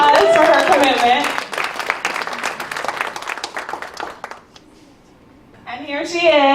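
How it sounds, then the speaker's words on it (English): An audience at a UN Day cooking event applauds, a dense burst of clapping that thins out and fades to near silence before voices start talking again. "So let's give her a round of applause for her commitment."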